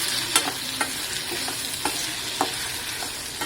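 Ingredients for a Tirunelveli-style tamarind curry with black-eyed peas are stir-fried in a pan. A steady sizzle runs throughout, broken by several soft scraping stirs at irregular intervals. No one speaks.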